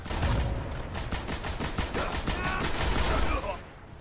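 Dense machine gun and shotgun fire in the Destiny shooter game, a loud, sustained barrage of rapid bursts and blasts running for several seconds before cutting off abruptly.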